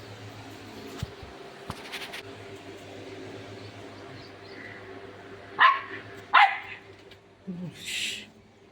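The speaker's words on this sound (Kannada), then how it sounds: "ನಾಯಿಗೆ ಬಿಸಿಲತ್ತದ ಬದರ್ಲತ್ತದ ನೋಡ್ರಿ." A dog gives two sharp, fairly close barks in quick succession, followed by a softer yelp, against an otherwise quiet indoor background with faint knocks.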